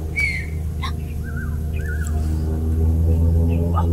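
Short bird calls and chirps ring out a few times in the mountains over a loud, low engine-like rumble, with people talking nearby.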